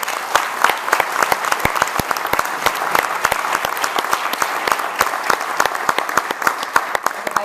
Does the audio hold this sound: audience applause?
yes